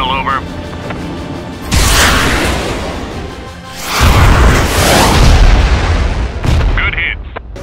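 A weapon strike explosion during an Israel Aerospace Industries BlueDome engagement: a heavy boom with a long rumbling roll, then a second, louder deep blast and rumble, close and powerful, with radio voices at the start and end.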